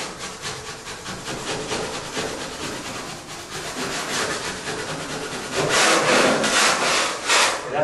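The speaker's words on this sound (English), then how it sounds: "I'm going to lightly scrape this for any little high spots I see on the quickset from that first little coat" Dried quickset joint compound being lightly scraped off a drywall patch, a steady rasping scrape of blade on hard plaster repeating in short strokes, growing louder and harsher toward the end, with no talking.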